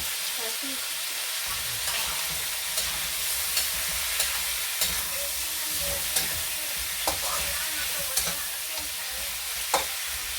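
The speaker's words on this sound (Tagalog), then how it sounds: "Kumukulok-kulok na. Tumatalsik na." A pot of goat caldereta stew bubbles and sputters with a steady hiss, small pops and splatters breaking through at irregular intervals.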